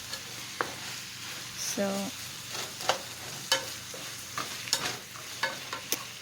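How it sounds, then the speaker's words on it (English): Onion sautéing over a high flame for Kerala beef curry gives a steady sizzle, broken by repeated scraping clicks from stirring and one brief spoken word. "We have to keep the flame on high because we have to saute this onion till it becomes kind of brown."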